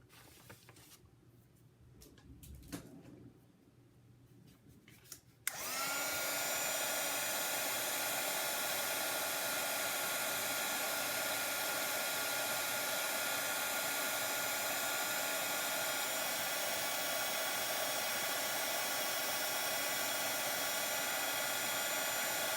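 After a few seconds of quiet handling noises, a heat tool switches on and blows with a loud, steady whooshing roar that continues to the end.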